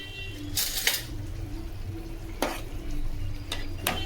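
Chicken cooks in a pan, with a soft sizzle and a few sharp scrapes and clicks of a utensil stirring it at irregular intervals, heard close by.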